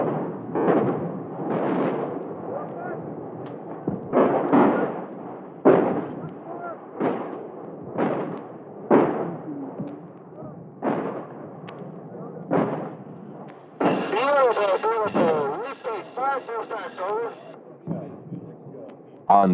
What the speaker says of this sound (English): when artillery arrives, when it drops down Charlie's throat, it's the most beautiful,